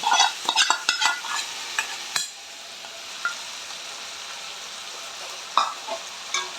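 Food for egg and paneer rolls fries in a pan with a steady soft sizzle, while a utensil scrapes and clinks against the pan in brief strokes at the start and again later.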